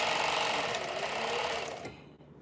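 Sewing machine stitching fabric while altering clothes, a loud fast continuous whirring run that slows and stops near the end.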